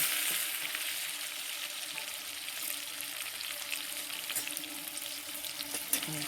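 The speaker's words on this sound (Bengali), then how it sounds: "আলুটা ভেজে নিব।" Potatoes frying in hot oil in a heated kadai make a steady, close sizzle and crackle throughout, with no voices.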